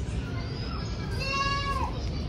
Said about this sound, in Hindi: ओए बकरी